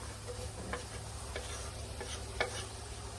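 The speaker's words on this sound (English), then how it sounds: "I'm just gonna go ahead and add my bacon." Bacon sizzles steadily in a pan on a Coleman camp stove, with a constant hiss and a hum from the burner. Faint ticks and pops sound now and then, and no one speaks.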